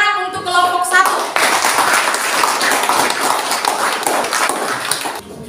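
A classroom group gives a round of hand clapping for a student group, dense and steady for several seconds after a brief bit of talk at the start.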